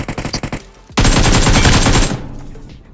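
Bursts of automatic gunfire from a BGMI (PUBG Mobile) match: a rapid string of close, loud shots for about a second, then a denser sustained volley that cuts off sharply.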